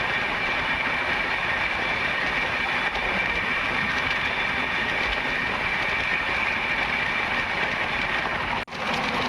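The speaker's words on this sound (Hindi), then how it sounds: "हमारे रूट की एक और ट्रेन।" Steady rumble and clatter of an Indian express train near Indragarh railway station, a continuous loud wash of wheel and carriage noise with faint rhythmic clicking, heard close up from a moving train with no talking.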